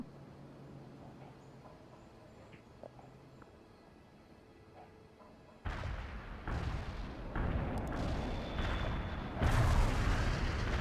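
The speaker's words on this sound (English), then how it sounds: "Artillery barrage hit for full effect." An artillery barrage lands in the video game World in Conflict, starting after a quiet stretch with sudden heavy booms that roll into a dense, loud, rumbling wall of blasts growing stronger toward the end.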